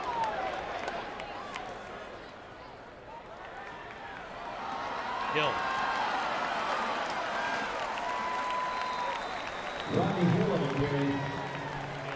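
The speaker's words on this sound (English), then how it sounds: "He gets the ovation from the crowd, and the ovation for Jordan Travis coming off after a career day." A stadium crowd at a Florida State versus Georgia Tech college football game gives a sustained, roaring ovation for the departing quarterback, a broad wash of cheering that swells midway while a commentator talks over it.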